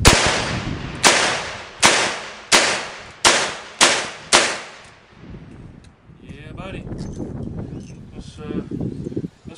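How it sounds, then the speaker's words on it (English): Seven .38 Special full metal jacket rounds fired in quick, evenly spaced succession, each a loud sharp crack with a ringing tail, followed by outdoor wind noise and distant movement. "Alright, so here goes 7 shots of 38 special here."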